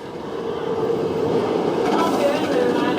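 El Toro, a wooden roller coaster at Six Flags Great Adventure, rumbles past with a steady low roar of wheels on track that swells and lingers, moderately close, while people talk faintly nearby.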